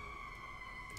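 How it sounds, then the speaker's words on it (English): Sirens wail steadily in the background during a Cyberpunk Red tabletop game session, two sustained tones holding faint and distant across a very short moment, with no talk over them. "I hear the sirens."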